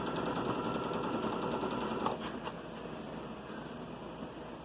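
A sewing machine stitches forward and then in reverse on a child's outfit, a steady continuous mechanical whir at close range that eases slightly partway through, with no talking.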